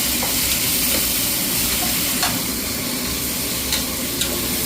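Onions and mint roasting in a pan for Maharaja biryani, a constant close sizzling hiss with occasional faint stirring taps.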